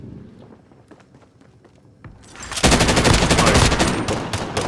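Video game gunfire: light tapping footsteps and a few scattered shots, then a loud sustained burst of rapid automatic fire that runs on to the end, close and alone.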